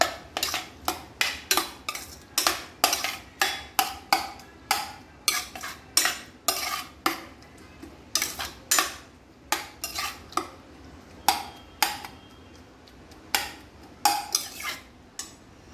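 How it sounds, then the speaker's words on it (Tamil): A spoon stirs mashed ash gourd mixed with ground coconut paste in a metal pot for a Tamil-style pachadi. Steady, repeated scraping clinks keep an even rhythm throughout, close and fairly quiet, with no talking. "நம்ம அரைச்சி வச்ச தேங்காய் விழுத சேர்த்துரும் அதே நல்லா மிக்ஸ் பண்ணிடுங்க"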